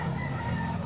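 Chickens offered for sale at a grotto holiday market cluck and crow in a dense, steady crowd murmur, the poultry sounds blending into constant close background noise.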